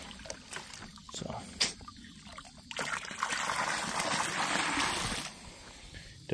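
Water from a hose fills an animal pen's water container and spills over onto the ground outdoors, a close rushing trickle that swells into a steady gush midway before easing.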